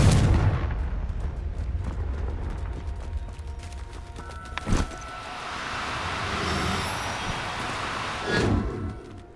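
Confringo blast spell cast in the video game Hogwarts Legacy, a rumbling opening followed by two sharp explosive bursts about four seconds apart, one near the middle and another near the end.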